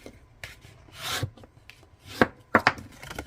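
A paper card for a faux step fun fold being flipped over and creased, with a few soft rustles and a couple of crisp taps, close and fairly quiet, with no talk.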